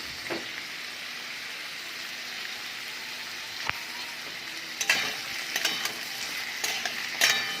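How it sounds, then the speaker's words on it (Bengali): Jackfruit seed curry ingredients with ginger paste fry and get stirred in a pan, giving a steady close sizzle broken by occasional scraping strokes that grow busier toward the end. "এবার সব কটা উপকরণ একসাথে ভালোভাবে ভেজে নেব।"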